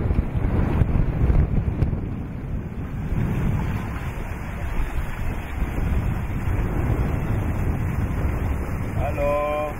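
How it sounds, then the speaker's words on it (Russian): A strong fresh wind buffets the microphone aboard a sailboat running under sail without motors, with a steady roar of air and water and faint voices in the background. "Не, ветер хороший. Свежий ветер."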